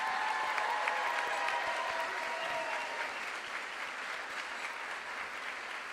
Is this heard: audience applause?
yes